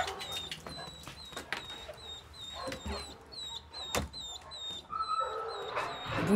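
Bunker, an older hunting dog, gives a few short barks and yips close by, while birds chirp steadily in the background and a faint voice murmurs now and then.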